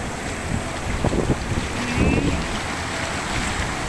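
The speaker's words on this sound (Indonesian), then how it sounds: "gelombangnya, ombaknya, lebat sekali gelombangnya" Surf rolls onto the sand at Cemara Sewu beach in Tulungagung, East Java, as a steady broadband wash with wind buffeting the microphone, and a faint voice briefly breaks through near the start.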